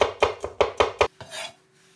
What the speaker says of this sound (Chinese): 大蒜切片